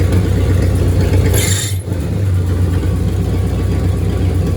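A rebuilt engine in a 1965 Cadillac Coupe DeVille idles steadily with a deep, continuous low rumble. A brief higher whir rises and fades partway through before the even idle resumes, loud and close, with no voices.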